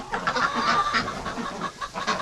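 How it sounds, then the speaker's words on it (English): Breeding ducks crowd in on a hay bale in a barn pen, a busy jumble of quacks and clucking calls overlapping closely and steadily, with rustling underneath. "Look at the ducks coming in there, just destroying that bale."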